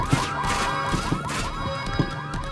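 Alarm siren from the video game Payday 2, wailing continuously and loudly through the whole stretch with a repeating rising-falling pattern, with scattered short game noises over it and no talking.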